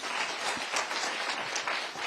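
Audience applause at a Nairobi City County gathering for people living with disabilities, a dense steady clapping from a crowd lasting a couple of seconds with no speech.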